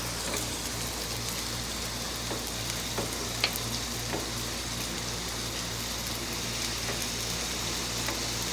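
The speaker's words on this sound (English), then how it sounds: "Let's stir up this cheese one more time so y'all can see how it's going to come out." Cheese sizzling on a Blackstone griddle as it is stirred, a steady, dense frying hiss like rain, with a few faint scraping taps from the spatula.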